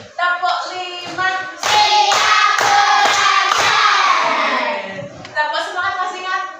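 Fourth-grade schoolchildren clap together in a counted rhythm, several crisp claps in quick succession, with the class chanting in unison around them.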